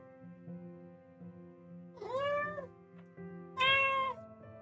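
A forest cat gives two drawn-out meows, the second louder, over a steady background of soft sustained musical tones, with no speech.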